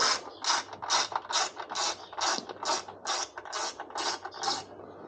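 Steady, rhythmic ratchet clicking while small hex bolts are backed out of an Akrapovic exhaust on a KTM 1290 Super Adventure. About a dozen even, close ratcheting strokes, with no talk.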